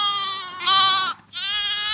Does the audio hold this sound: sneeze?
no